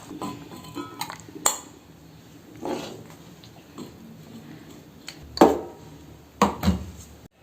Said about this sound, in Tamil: இப்போ குழம்பு நான் வேறு பாத்திரத்துக்கு ட்ரான்ஸ்ஃபர் பண்ணுறேன்.